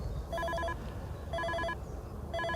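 A Weenect XS GPS cat tracker rings in three short bursts of repeated electronic chimes, separated by brief pauses, faint against a low background hum.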